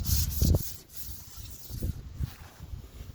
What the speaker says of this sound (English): just very, very light scrubbing, not even pushing hard really. Just letting the brush do all the work